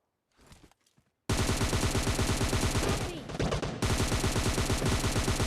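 Rapid automatic gunfire from the mobile shooter game PUBG Mobile Lite erupts after a near-silent second, a loud continuous burst of shots that stops briefly and then resumes just as hard.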